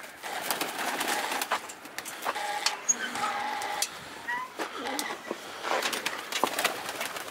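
Pigeons coo repeatedly nearby with soft, throaty calls, mixed with wing flaps, scuffling and other bird chatter.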